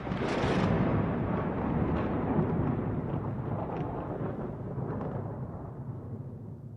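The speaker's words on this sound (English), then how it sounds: "Thunderclap." One loud thunderclap hits at the start, then a long, deep rumble rolls on and slowly fades over several seconds, with no voices.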